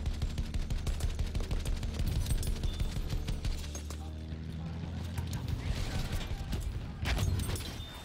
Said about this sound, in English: There's another AA shooting at me.